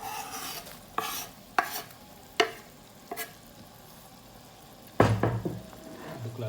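Rawon ingredients being stirred in a pan, a handful of sharp scraping clacks spaced apart, then a louder burst of stirring over a steady background sizzle.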